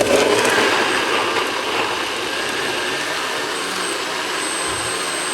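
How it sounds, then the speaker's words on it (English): A blender runs loudly and steadily blending beetroot, ginger, lemon and pineapple, a dense whirring roar that holds nearly unchanged throughout with no speech. "the blender is working properly"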